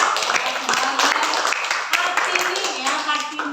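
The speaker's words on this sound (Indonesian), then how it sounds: "Oke, tepuk tangan buat kita." A school class claps together in a classroom. The clapping is dense and continuous and sits under and among children's voices and chatter.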